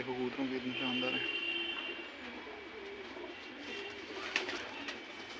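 Domestic pigeons in a Jammu loft coo in low repeated phrases during the first seconds, close by, while someone speaks over them.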